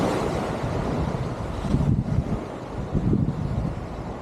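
Strong headwind buffets the microphone in a steady roar in Finnmark, with louder gusts swelling and easing, no voices present.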